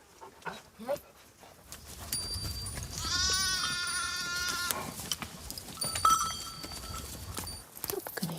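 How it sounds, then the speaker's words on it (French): Sheep in a mountain flock in Portugal's Serra da Estrela bleat in a wavering chorus, several calls overlapping near and far, with faint shuffling of hooves in the background. "Mais comment s'y retrouver au milieu de toutes ces brebis?"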